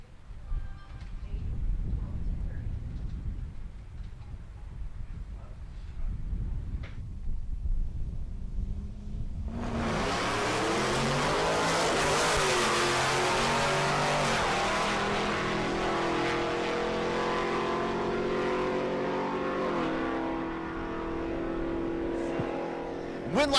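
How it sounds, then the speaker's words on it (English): A Camaro and a Corvette drag racing down a Great Bend, Kansas dragstrip: low idling rumble, then both cars launch into a loud, sustained roaring acceleration, engine pitch climbing through gear changes, with announcer speech faintly underneath. "Val Garapi in the right lane, the Camaro. Derek Diltz in the left lane, the Corvette"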